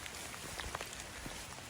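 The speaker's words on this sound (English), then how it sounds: "it's raining harder." Heavy rain patters in a dense, faint hiss of drops striking surfaces, steady and continuous throughout the short stretch with no voices.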